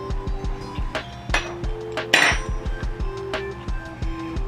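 A spoon clinks and taps steadily against a bowl while potato salad is stirred, a rapid rhythm of close, sharp metallic knocks with a few scraping swishes in between.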